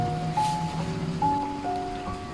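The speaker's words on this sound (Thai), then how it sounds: "ช่วงฝนตกกันนะ" Constant hissing patter of rain fills the scene, with faint tonal hums drifting through in the background.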